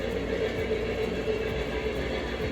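A Lionel Blue Comet Camelback model train runs along a home layout, a loud steady mechanical rumble and whir close by, continuous with no pauses.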